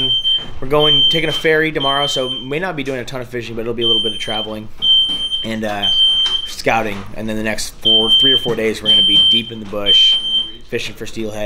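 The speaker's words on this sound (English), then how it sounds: "I didn't even know that we had a fire alarm." A high, piercing fire alarm beeps repeatedly in short bursts beneath someone talking continuously nearby.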